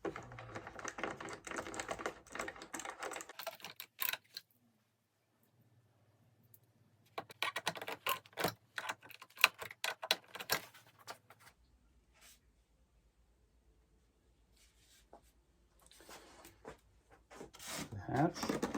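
Screws are driven into an E-flite Viper 90mm EDF jet fuselage to hold the fan unit, with close, scratchy scraping and tool rasps in bursts separated by near silence and faint hum.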